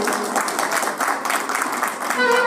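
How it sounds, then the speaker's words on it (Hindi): An audience at the Shivdwar folk festival in Sonbhadra claps together, a dense, even patter of applause that holds steady throughout with a voice faintly audible over it. "ताली बजाइए।"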